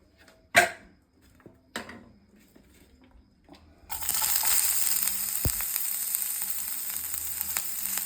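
Carrot and cabbage stir-fried with chilli powder for a vegetable Korean ramen bowl: a few sharp knocks and clatters, then vegetables hit hot oil and a loud, continuous sizzle takes over, close by, without talk.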